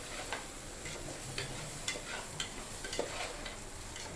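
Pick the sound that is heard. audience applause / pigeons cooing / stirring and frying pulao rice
stirring and frying pulao rice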